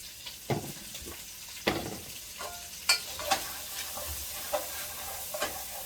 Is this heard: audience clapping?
no